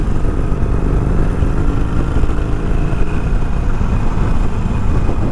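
A Harley-Davidson Sportster 883 engine rumbles loud and close in a continuous low drone, with no voices over it.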